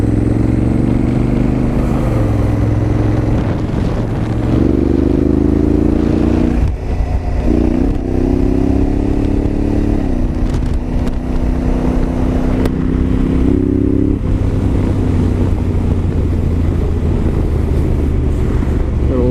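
A Honda Africa Twin motorcycle cruising along a road, its engine droning steadily with gear-change shifts in pitch, under strong wind buffeting on the microphone throughout.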